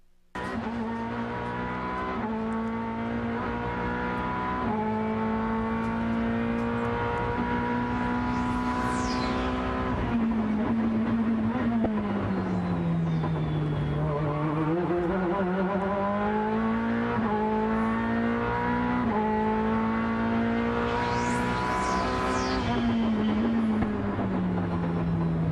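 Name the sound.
race car engine warbling over bumps at Sebring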